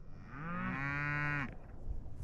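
A cow on a snowy winter ranch lets out a single long, loud moo close by, falling off abruptly, followed by quieter wind and background noise.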